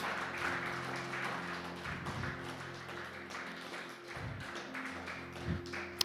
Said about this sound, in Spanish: Pueden dar un fuerte aplauso a nuestro Dios Todopoderoso